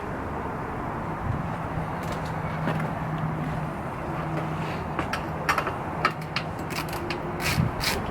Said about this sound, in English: I am going to remove this seat latch as well. It's just a 10mm bolt,